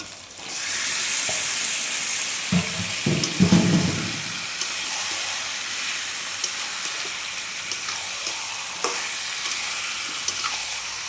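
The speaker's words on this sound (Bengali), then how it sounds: "আদা রসুন পেস্টটা যেটা ছিল সেটা এখন কষানো হয়ে গেছে। এখন মা দিয়ে দিচ্ছে মাংস।" Meat dropped into fried ginger-garlic paste in a hot pan sets off a loud, steady sizzle and hiss, with a brief burst of scraping and stirring near the start, then continuous frying with small clicks of a utensil.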